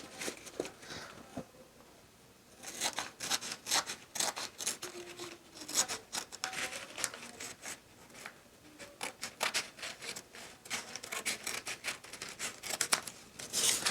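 Scissors snip through a paper sewing pattern for a strapless sheath dress bodice, following a drawn marking line: a close, steady run of crisp rasping cuts with brief pauses between strokes, no talking over them.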